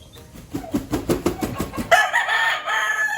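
A bulik gamefowl rooster crows at a game farm, its harmonic call rising and breaking over roughly a second and a half, fairly close, followed by brighter farmyard clamor.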